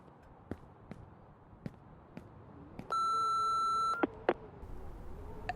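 A single steady electronic answering-machine beep about one second long in the Remothered: Broken Porcelain game, over faint rhythmic footsteps and quiet ambience, followed by a couple of short clicks.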